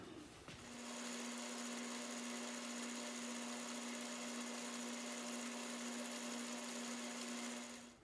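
A steady, even mechanical whir of a lathe drilling a 3/16-inch hole into nylon, running continuously with a constant hum and no speech.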